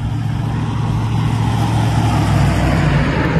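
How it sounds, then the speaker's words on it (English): A truck drives along a forest road, its engine a steady low rumble that builds slightly as it comes closer, with no talking over it. "Here comes a truck."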